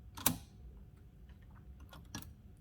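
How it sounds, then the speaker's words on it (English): A 1913 Hammond Multiplex typewriter, an old machine with a rotating type wheel in its turret, strikes a sharp key clack followed by faint ticking mechanism sounds and a second quieter clack near the end. "You type a letter, a mechanism raises a pin, then this wheel inside the turret rotates till it hits the pin."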